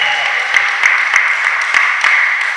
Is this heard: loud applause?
yes